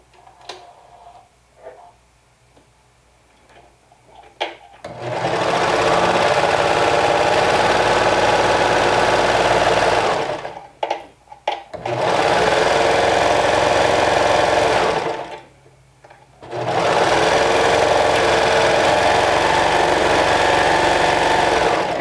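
A serger stitches a pleated cardigan skirt, running in three long, loud, steady whirring bursts with short quiet pauses between, after a few faint clicks of fabric handling.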